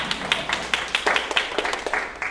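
Audience applause at a gut health workshop: a scattered run of individual claps from a small group, moderately close, with a faint voice in the background.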